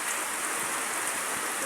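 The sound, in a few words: heavy rain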